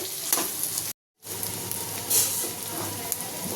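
Bitter gourd with turmeric frying in a pan over a medium flame, giving a close, steady sizzle and hiss with a brief silent break, and no talk.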